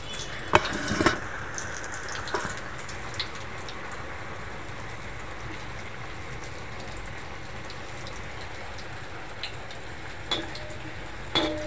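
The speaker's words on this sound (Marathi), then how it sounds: "स्लो गॅसवरच फ्राय करा." Slices of raw banana coated in rava shallow-fry in a pan over a low flame, giving a soft, steady, faint sizzle with a few light clicks and scrapes near the start.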